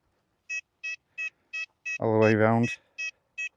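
Repeated short tonal beeps from an XP Deus 2 metal detector sweeping a target in a field in England, about eight evenly spaced chirps with a voice speaking briefly in the middle.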